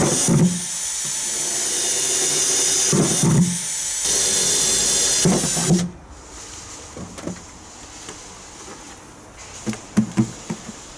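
A power drill whines loudly through several bursts, each bit biting through material while drilling drainage holes for a wormery, then stops, followed by quieter tapping and handling sounds.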